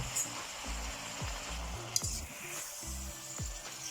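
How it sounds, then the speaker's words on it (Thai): Pork and cabbage stir-fry in a hot pan, with a steady sizzle under repeated scraping strokes of a spatula and one sharp clink of metal partway through. "คนให้มันเข้ากันครับ"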